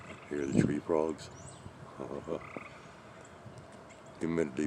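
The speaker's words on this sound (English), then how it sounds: "Hear the tree frogs?" Tree frogs croak in short pulsing trills outdoors on a humid afternoon, fairly faint and partly under a person speaking nearby.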